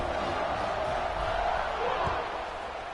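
A football stadium crowd roars at kickoff, a dense, continuous wash of cheering from a large distant mass of fans with a few thuds inside it, steady throughout.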